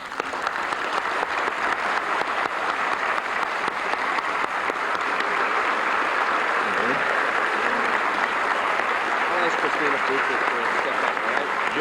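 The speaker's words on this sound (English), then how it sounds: "Now it's time for applause." An audience at an awards ceremony applauds honoured paramedics and EMTs, producing continuous, even clapping from a sizable crowd in a hall, steady and unbroken for the whole stretch.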